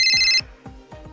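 A phone rings with an incoming call, a bright electronic ringtone tone lasting under half a second, followed by repeated soft low thumping beats in a quiet room.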